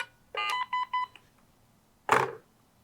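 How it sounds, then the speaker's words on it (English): Telephone keypad DTMF tones enter #7 on an emergency phone: a quick run of four short dialing beeps, then after a pause one louder broadband burst, clear and close with no talk. "If I'm happy with my recording, I will enter #7 to exit programming mode"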